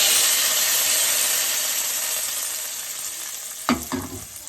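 Curry leaves and tomatoes fry in a hot pan with a loud, steady sizzle that slowly eases, then a couple of short scraping stirs near the end.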